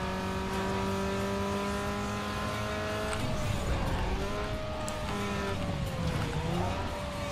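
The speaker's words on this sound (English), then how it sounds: "before we can just accelerate like hell, thanks to our nitros" A street-racing car in Need for Speed Underground 2 accelerating hard on nitrous down a straight in the final lap, the engine a loud sustained whine that climbs through rising gear pulls, with tire noise underneath.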